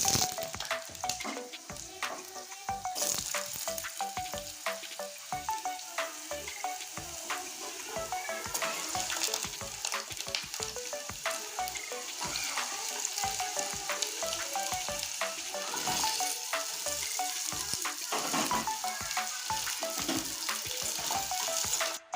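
Potatoes fry in hot mustard oil in a wok, with a steady, dense sizzle and crackle that runs throughout, joined by occasional scraping stirs and no talk.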